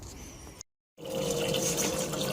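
Water from a garden water butt pours onto a compost heap in a close, steady splashing stream that cuts off briefly, then resumes stronger.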